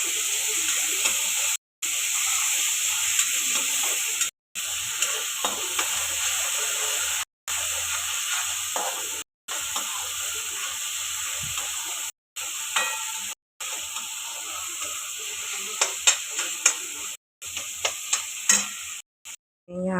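Softened chopped tomatoes stirred in a frying pan, with continuous sizzling and hissing broken by brief pauses and scraping stir strokes, close and steady throughout.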